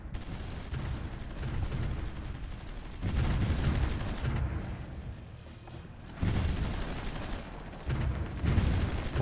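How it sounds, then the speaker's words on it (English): Artillery bombardment on enemy tanks in Supreme Ruler Ultimate, heard as a low rumbling barrage of booms and crackling fire that swells in several loud waves across the clip. "We're doing some bombardment on the enemy tanks here."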